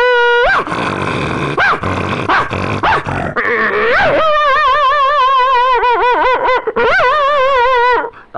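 A voice imitates dogs, first a rough, snarling growl and then a quick run of yelping, wavering barks, loud and close with no other sound around it.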